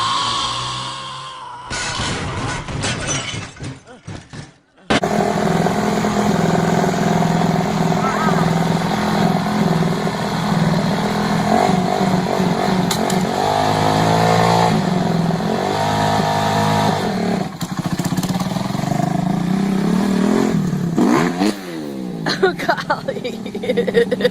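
A motorcycle engine starts after a brief clatter and settles into a loud, close running note, revved up and down several times, with voices talking over it.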